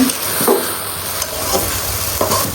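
Cabbage and potatoes fry loudly in a pan with a dense, close sizzle and periodic scraping strokes as the vegetables are stirred.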